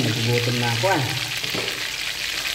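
Garlic-breaded chicken pieces sizzle and crackle steadily in hot oil in a pan, with a person speaking briefly over the frying at the start.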